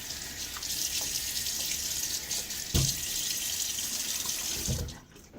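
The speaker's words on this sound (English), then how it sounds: "All right, so some water on the face." A running bathroom tap hisses steadily as water is splashed onto the face before a wet shave, with a couple of soft splashes before the flow cuts off near the end.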